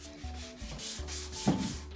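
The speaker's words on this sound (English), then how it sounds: "The reason I'm hand sanding is because I didn't want to make a lot of noise" Steady rhythmic rasping of sandpaper rubbed by hand across wooden furniture, repeated back-and-forth strokes up close, no talking.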